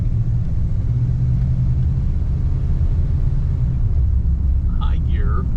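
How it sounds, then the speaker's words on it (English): A 1956 Packard with automatic transmission pulls away in low gear, its engine a steady low rumble beneath the cabin, with a brief bird-like chirp near the end. "So now we're starting off in low gear."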